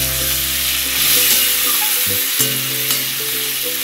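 Vegetables and tomatoes frying in a pan, a loud continuous sizzle with a background hum and a couple of brief stirring knocks, with no talking.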